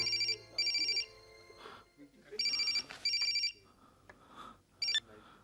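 A telephone rings in repeated electronic double trills, about four bursts of half a second each, with voices talking quietly in between.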